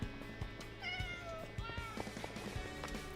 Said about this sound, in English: That's just a cat that looks like her.